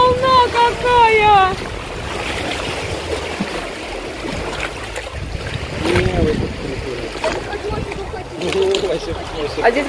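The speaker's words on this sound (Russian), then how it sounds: "Вот это волна. Волна какая!" Waves wash and crash around a boat on a trip out on the water, a broad rushing surge heard close by while several people talk and exclaim over it.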